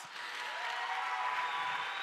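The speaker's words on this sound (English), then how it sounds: "would you please give a round of applause" Audience in a chapel giving a round of applause, a soft, distant, even wash of clapping that holds steady without distinct individual claps.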